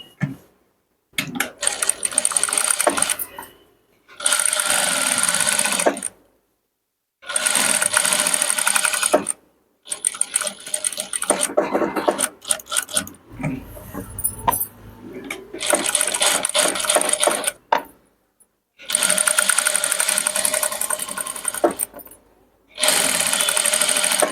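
An electric sewing machine stitches the lining of a chudidar top in repeated bursts of rapid whirring, each lasting a few seconds and separated by short silent pauses, close and clear with no talk.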